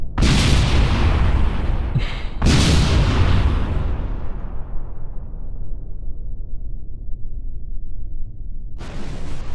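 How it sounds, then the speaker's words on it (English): Fireworks explode in the spacecraft game Kerbal Space Program, a loud rumbling blast that cuts out briefly, then resumes and fades into a long decaying roar before another burst at the end. "Yeah, fireworks."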